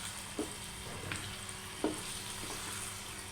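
Potato pieces frying in a pan for a cabbage curry give a steady, soft sizzle with a few brief stirring scrapes, close and moderately quiet.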